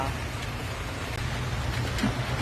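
Rain falls steadily in a rural village under a dark sky, a dense, even hiss of drops on surfaces close by, with no voices.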